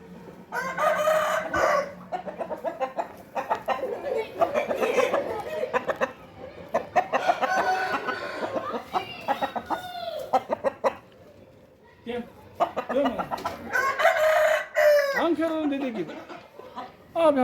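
A rooster crows several times, mixed with clucking fowl, loud and close, with talking voices in between.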